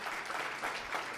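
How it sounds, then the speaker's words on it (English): Toastmasters audience at an open house giving a round of applause, a brief burst of steady clapping from a room of people, moderately loud and continuous. "A big round of applause for all of us and for all of you"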